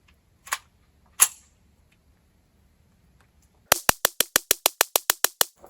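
A Taurus TX22 Compact .22 pistol fires subsonic rounds. Two separate shots are followed by a pause, then a rapid, even string of about twelve sharp, close cracks.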